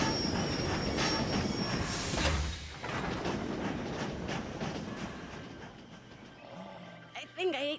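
A cartoon train runs along railway tracks with a rumbling rush, wheel squeal and clickety-clack, a swelling passing whoosh midway, then fading, with brief voice-like sounds near the end.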